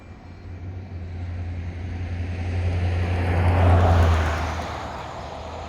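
An FPV drone buzzes in flight, its droning hum rising in intensity and pitch as it draws closer, then fading slightly, heard steadily throughout.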